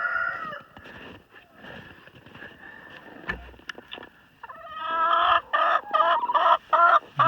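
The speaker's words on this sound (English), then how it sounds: "there's a couple hens in there right now" Several hens cluck inside a chicken coop, first as soft scattered murmurs and then as louder, rapid, close calls toward the end.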